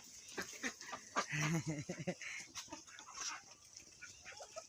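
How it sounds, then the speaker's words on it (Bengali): A chicken clucking close by in short, uneven bursts, faint overall, with a low murmur of background noise around it. "দেখুন মুরগি"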